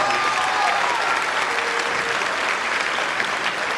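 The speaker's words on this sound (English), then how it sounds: "Give them a round of applause." Audience applause fills a school spring concert hall, a steady wash of many hands clapping for the whole stretch with a few faint voices beneath.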